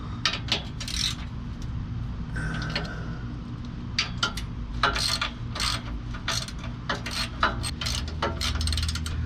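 A ratchet loosens the 13 mm bolts holding the stock rock sliders on a vehicle, with bursts of rapid close clicking and short pauses between strokes and no talking.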